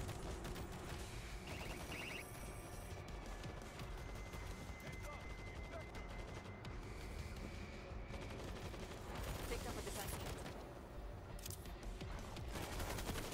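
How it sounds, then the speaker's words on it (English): Continuous rapid automatic gunfire from an auto turret in World War Z, dense and unbroken, with voices faintly mixed in under the shooting. "They got us an auto turret."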